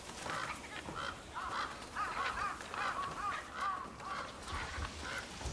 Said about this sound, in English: Some birds are fighting on the roof.